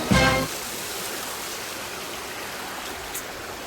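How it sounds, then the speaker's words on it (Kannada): Water rushing at Didupe Falls near Dharmasthala, a steady, dense broadband roar that runs unbroken throughout, with a short louder burst at the very start and no voices. "ನೀರು ಹರಿಯೋ ಜಾಗನೇ ಇದು"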